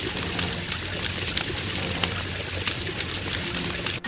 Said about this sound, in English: Use water to put out the fire.